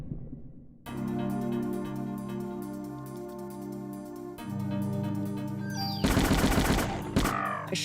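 Gunfire in the Parasite Eve video game: a steady stream of rapid shots under a continuous game music bed, with a louder, denser burst of blasts near the end.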